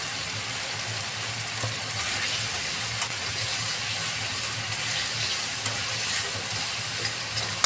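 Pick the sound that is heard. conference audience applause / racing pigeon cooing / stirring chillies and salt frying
stirring chillies and salt frying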